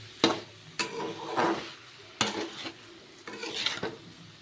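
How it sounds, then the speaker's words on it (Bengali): Taro stolons fry in a wok over low flame, stirred in four distinct bursts of spatula scraping and sizzle, close and moderately quiet, with brief pauses between strokes. "এবার ভালো করে নেড়ে চেড়ে ভেজে নেবো"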